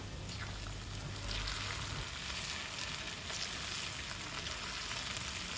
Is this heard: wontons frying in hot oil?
yes